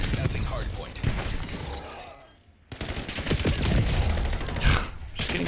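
Rapid automatic gunfire in a Black Ops 7 ranked hardpoint match, bursts of shots close and loud, with a short lull in the middle, mixed with voices.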